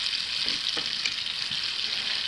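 Oliebollen dough balls frying in hot oil, a continuous bright hiss and sizzle with a few soft bubbling pops and no speech.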